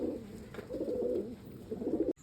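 Green-eyed pet pigeons give a few soft, close rolling coos in short bursts, then stop abruptly.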